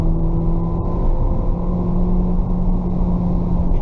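A 2020 Volkswagen Virtus GTS with a 6-speed automatic is heard from inside under steady acceleration: a loud, continuous engine drone holding a strong steady tone, with no clear break for a gear shift; no talking.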